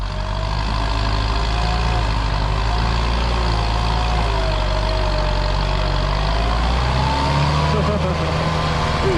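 A tractor engine runs at a steady, loud idle with a deep low rumble and a faint wavering whine above it, continuous for the whole stretch, while a voice talks over it.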